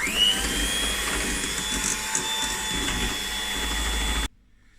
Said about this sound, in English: Now we're just going to mix this for about 2 minutes.